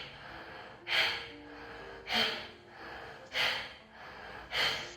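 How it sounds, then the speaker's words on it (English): Fast, forceful breaths in a lung-strengthening exercise come in four sharp, evenly spaced bursts about a second apart, each followed by a softer return breath. They are close and clear, with no talk. "Like inhale, exhale."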